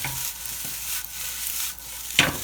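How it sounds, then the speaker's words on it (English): Rice fries in a pan on the stove, giving a continuous close sizzle broken by soft scraping stirs, with a sharper clink near the end and no talk. "And then we're just cooking the rice"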